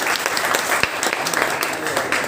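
Loud audience applause fills a ceremony at a Kshamavani event held by a Jain school in Usmanpur, Delhi, with a dense, steady patter of clapping and a voice faintly audible beneath it.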